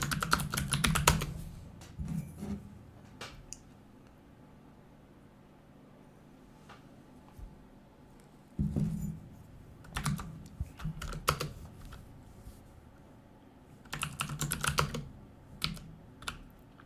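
Code being typed on a computer keyboard comes in close, crisp bursts of rapid keystrokes separated by quiet pauses, alone without speech.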